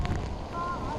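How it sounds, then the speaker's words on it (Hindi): Strong cyclone winds roar across the microphone during Cyclone Biparjoy, a dense, blustery rush with a rising whistle of gusts, close and loud, with heavy rain mixed into the constant noise. "बहुत ज्यादा तेज हवाओं के दबाव के साथ साथ बहुत हैवी रेन शुरू हो गई है"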